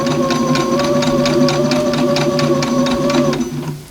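A sewing machine stitches quilt fabric, a close, loud rapid mechanical whirring hum with a fast regular clatter of needle strokes that runs steadily for about three seconds and then stops.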